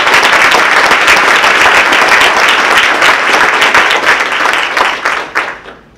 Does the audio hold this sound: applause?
yes